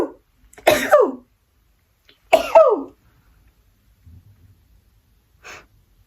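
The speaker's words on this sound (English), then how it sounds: "I think I have to sneeze" A person sneezing close to the microphone, two sharp explosive bursts about a second and a half apart, followed by quiet breaths and a faint sniff.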